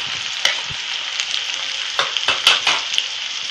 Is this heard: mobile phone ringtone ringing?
no